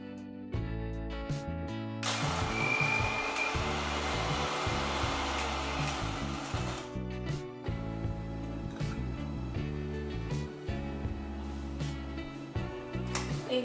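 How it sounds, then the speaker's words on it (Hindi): Mixer grinder jar coarsely grinding broken biscuits for a no-bake cake, a loud steady motor whine with rattling, crunching chunks that starts after a brief lead-in and runs continuously with no talk. "ये सारे बिस्किट्स हमने तोड़ के मिक्सर जार में डाल दिए हैं। अब हम इनको कोर्सली ग्राइंड करेंगे"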